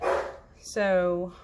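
A dog barks once loudly and close by, a single harmonic bark following a brief spoken word indoors.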